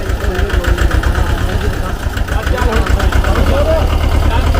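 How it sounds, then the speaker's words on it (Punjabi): A tractor engine runs loud and close at a steady low rumble while the tractor is driven slowly, with voices calling out over it. "ਸਿੱਧਾ ਵਿੱਕੀ ਟਰੈਕਟਰ ਨੂੰ ਹੌਲੀ ਹੌਲੀ"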